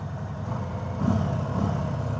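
A 2018 Harley-Davidson Sport Glide motorcycle engine runs at a steady, close, full-bodied rumble that swells slightly about halfway through, with no talking.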